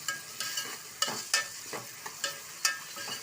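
Onions cooking in a pan for a home chicken dish, soft sizzling broken by repeated sharp scrapes and clacks of a spoon stirring, close up and without talk.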